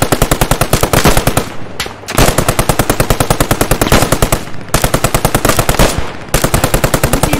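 Sustained machine gun fire in the World War II shooter Post Scriptum at Haguenau, loud close bursts of rapid rhythmic shots with two brief pauses between long strings.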